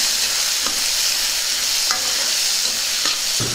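Green peas stirred into a sizzling eggplant curry in a pan, with a steady frying hiss and occasional scraping strokes of the spoon against the pan.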